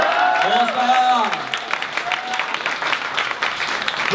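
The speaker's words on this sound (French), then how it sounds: "Je vous demande d'applaudir bien fort Patricia Castorama." An audience applauds performer Patricia Castorama as she is welcomed onto a stage show: a short tonal voice or jingle opens over a steady, dense clapping that fills the rest.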